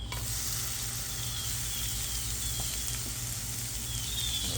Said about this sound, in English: we'll get our veggies sauteed